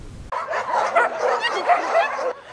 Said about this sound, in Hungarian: Nagyon élvezik a kutyák a havat a szekszárdi állatmenhelyen.